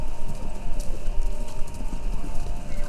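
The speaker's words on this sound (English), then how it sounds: "Sounds like... horses. Horses running?" Galloping horses heard over a radio broadcast in Kentucky Route Zero, a steady rapid clip-clop of many hooves under a continuous hissy background, fairly loud and unbroken for the whole stretch.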